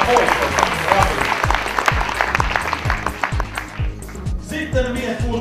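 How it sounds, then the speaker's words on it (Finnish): Audience applause at the 2018 Lapponia ski race prize ceremony, a dense steady clapping from a crowd with scattered sharp claps, carrying on for several seconds before thinning slightly near the end. "Annetaan raikuvat aplodit ja Milja Kähköselle"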